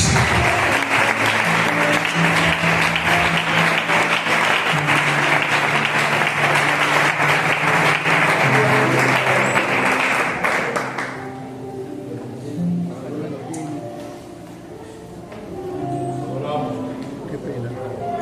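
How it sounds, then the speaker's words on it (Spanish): Church congregation applauding a preacher, a dense sustained wash of clapping for about eleven seconds before it fades out, followed by quieter room sound and a voice beginning to speak. "Fuertes aplausos para él."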